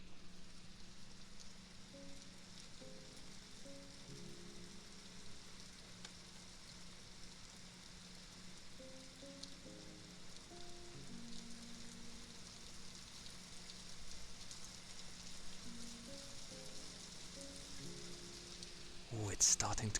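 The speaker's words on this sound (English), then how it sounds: "That's the rain!" Rain falling outside a window, a steady soft broadband patter that holds evenly throughout, with faint low hum and scattered quiet tonal sounds underneath and a brief louder bump at the very end.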